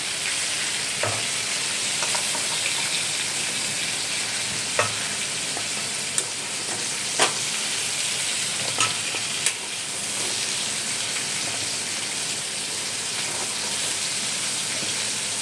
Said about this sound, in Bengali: পটলটা এইভাবে ভাজা হয়েছে